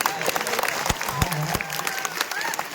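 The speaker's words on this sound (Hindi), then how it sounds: "आप लोग तालियां 4 इधर से 4 उधर से।" Audience clapping at a live Hindi devotional singing program, a burst of crowd applause with scattered sharp claps and a faint voice underneath.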